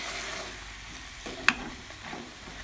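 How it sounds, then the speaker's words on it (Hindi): Tinda (round gourd) and chicken frying over a medium flame, with a soft continuous sizzle, one sharp clink of a utensil midway and light stirring sounds. "अब इसे भी 2 से 3 मिनट के लिए मीडियम फ्लेम पे हम खूब अच्छे से फ्राई करेंगे।"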